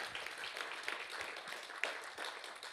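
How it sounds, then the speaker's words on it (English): A gathered audience at a book event gives an author a round of applause, dense steady clapping that comes across faint and distant. "another huge round of applause for Rahsaan"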